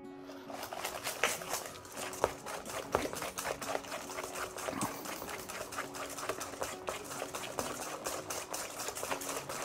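A whisk beats egg yolks for crème anglaise in a bowl, a fast, steady run of light metallic clicks and taps that carries on evenly throughout at a modest level.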